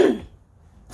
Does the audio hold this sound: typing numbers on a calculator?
no